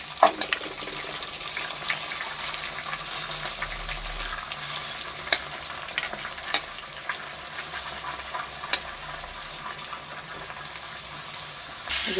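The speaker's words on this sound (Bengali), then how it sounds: "ভালো করে মিশিয়ে নেওয়া হচ্ছে চালটা।" Gobindobhog rice with cashews and raisins being stirred in a pot for Bengali basanti polao, soft steady scraping and light sizzling throughout with a few faint clicks of the spoon.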